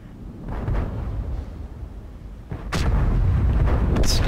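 A tank cannon fires in a tank video game featuring the Pz 58 Mutz: a sharp, loud blast about two-thirds through, followed by sustained heavy engine rumble and a brief high crackle near the end, with no talk.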